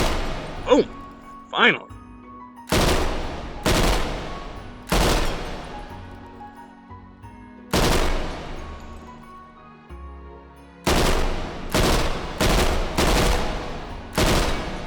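A modern PPSh submachine gun firing in the VR shooter H3VR: about a dozen loud, sharp bursts and single cracks spaced irregularly, with short quiet gaps and a brief spoken word near the start.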